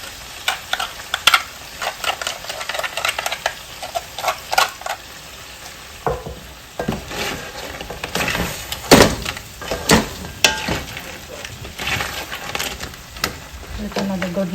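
Crab curry being stirred in a wok, with a spatula scraping and clacking against the metal in irregular strokes over a soft sizzle and a faint high hum.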